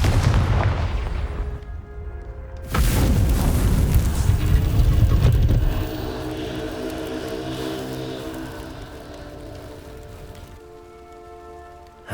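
A Confringo blasting spell in Hogwarts Legacy blows apart a vase with a heavy booming blast. A second loud burst rumbles and crackles for a few seconds, then fades into quiet, ringing game music.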